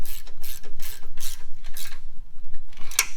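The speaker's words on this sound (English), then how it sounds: "Three-quarter inch wrench, tighten that up." A three-quarter inch ratchet wrench tightens bolts on a track plate, giving a fast, close series of rhythmic clicking strokes that ends with a brief metallic tap.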